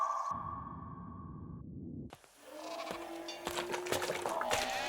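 Goats bleat among a herd of cows and goats in a cartoon scene. A few short bleats sound close and clear after a synthetic tone and a brief silence.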